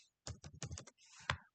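A computer keyboard rattles in a short, close burst of keystrokes as Python code is typed, with a few quick clustered taps and a final louder key press and no voices.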